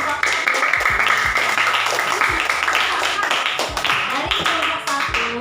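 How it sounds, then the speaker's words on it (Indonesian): Students in a classroom clap for a group, a dense patter of hand claps lasting several seconds, with voices talking underneath. "Iya, tepuk tangannya untuk kelompok"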